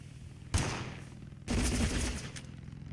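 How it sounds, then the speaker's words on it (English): Gunfire in the video game Totally Accurate Battlegrounds: two short bursts of rapid shots with heavy low thuds, the second burst longer, over a faint background. "I can't tell if they're shooting me, or if they're shooting somebody else nearby."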